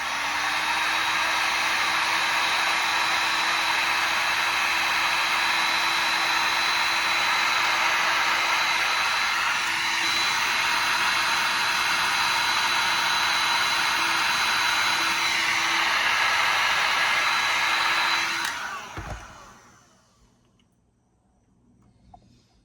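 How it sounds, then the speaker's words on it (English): A heat gun blows with a steady, loud, close whooshing roar and a constant motor hum for about eighteen seconds, then shuts off and winds down into near silence, with no talking. "One, two, heat gun."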